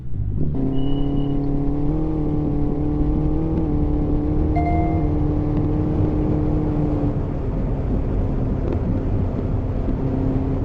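A car engine in the Roblox video game drones steadily with a smooth, sustained tone and slight pitch shifts, running continuously without a pause and without any voices.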